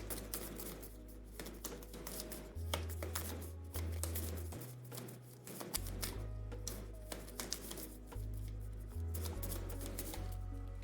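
A deck of game cards is riffled and shuffled on a table, a soft, busy patter of rapid flicks and taps running continuously at close range.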